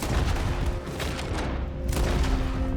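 Gunshots in Red Dead Redemption 2 crack out loud and close, several sharp blasts in quick succession over a constant background rumble.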